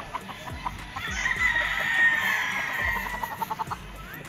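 Pure 5K Sweater gamefowl roosters at a gamefarm, a steady chorus of clucking and chatter with a brief higher call rising through the middle, close and fairly loud, with no talk.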